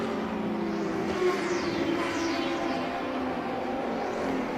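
Race cars accelerating on a green-flag restart at the Sebring endurance race: a steady, loud engine roar with drone-like tones and faint pitch sweeps as cars pass, continuous and without talk.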